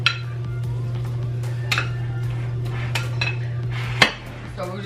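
A spoon stirring fajita food in a bowl, with repeated clinks and scrapes against the bowl over a steady low hum, one sharper knock near the end.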